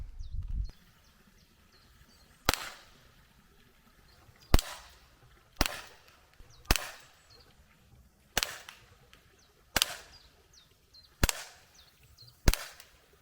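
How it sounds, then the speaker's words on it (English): A Gamo P-25 blowback air pistol fires pellets in a series of eight sharp, loud cracks spaced about a second or two apart, with quiet pauses between the shots. "So let's get some of these pellets loaded up into the pistol and see how accurate it is."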